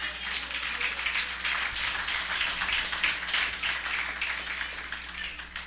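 A church congregation applauds together, a dense, sustained wash of many hands clapping at a steady level throughout, with no speech over it.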